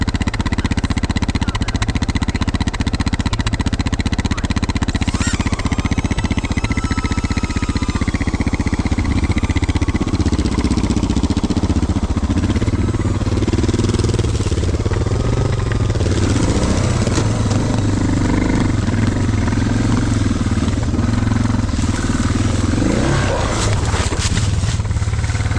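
A dual sport motorcycle engine runs steadily while the bike is ridden on a trail. The loud engine drones and revs continuously with wind noise throughout, rising and falling in pitch as the throttle changes.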